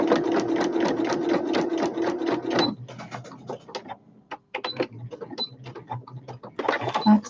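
A sewing machine stitches a fabric handbag with a loud, close, rapid mechanical whir. The run stops abruptly partway through, then a few shorter bursts of stitching and handling clatter follow.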